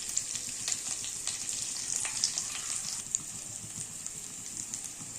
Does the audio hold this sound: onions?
yes